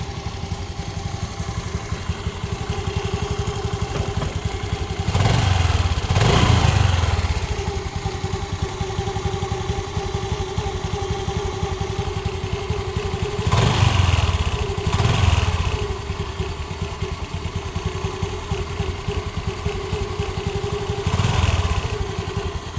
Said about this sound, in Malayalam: ഇനി വണ്ടി സ്റ്റാർട്ട് ചെയ്ത് നോക്കാം